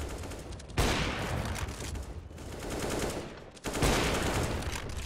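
Rapid automatic gunfire in Counter-Strike rattles out in two dense bursts, one near the start and one toward the end, with a quieter stretch of shots and game noise between them.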